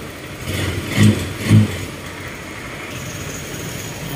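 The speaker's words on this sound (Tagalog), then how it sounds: "Ayan yung kanyang tunog ng kanyang makina." A second-hand motorcycle with a noisy engine idles close by at a steady level, with a couple of brief louder thumps early on.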